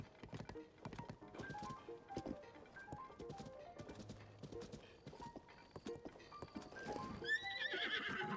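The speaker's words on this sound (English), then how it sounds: "That enormous horse." A giant horse in Zelda Tears of the Kingdom clip-clops with rhythmic hoof steps and lets out a whinnying neigh near the end, fairly quiet and alone.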